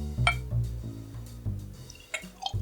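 Bourbon whiskey pours into a glass with a few soft splashes and drips, followed by light clinks of glass, all close and fairly quiet.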